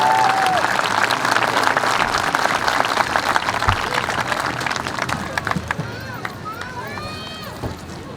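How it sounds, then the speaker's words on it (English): Sustained audience applause with some cheering rings out at a centennial ceremony for the 2015 Burn Hills senior football players and cheerleaders. A large crowd claps steadily, loud and dense, and brief whistles rise near the end. "let's give a big round of applause to our 2015 Burn Hills senior football players and cheerleaders"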